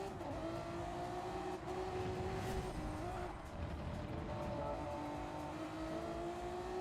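Race car engine in Gran Turismo on the Dragon Trail Seaside circuit, a steady loud drone with shifting pitch as the car slides and loses control, engine note dipping and rising, no voices present.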